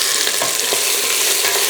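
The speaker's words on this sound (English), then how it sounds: "Just watch that the onions does not burn." Onions frying with cumin powder and salt in a pan for lamb curry, a steady bright sizzle running throughout with light stirring scrapes, close and fairly loud.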